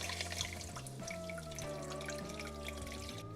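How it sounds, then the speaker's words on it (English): Three cups of water run steadily into a pan for a few seconds, a continuous splashing trickle over a faint background hum. "I'm adding 3 cups of water."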